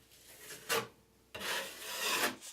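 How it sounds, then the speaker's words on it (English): Sandpaper rasps across dried joint compound on a patched wall hole, with one short scrape followed by a longer, louder stroke nearby and quiet between them. "Add 1 more layer of compound, wait to dry, and you're ready to sand."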